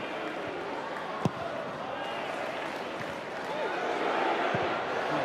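Football stadium crowd noise at a Reading FC match, a broad roar that swells louder toward the end as fans urge a player to shoot, with a sharp thud near the start and a commentator talking over it.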